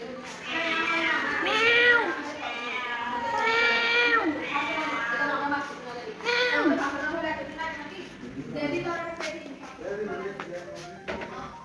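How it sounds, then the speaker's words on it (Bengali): An outdoor cat meowing at a household: repeated drawn-out meows and wails come in clusters, fairly close and loud, with a few quieter calls toward the end. "দেখছো বাইরের বিড়ালটা"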